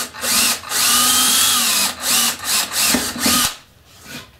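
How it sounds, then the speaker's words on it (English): Close-up power drill whirring into a wooden top plate, pre-drilling a pilot hole in several bursts, one long run followed by shorter pulses, then stopping. "we'll just go ahead and pre-drill this into our top plate"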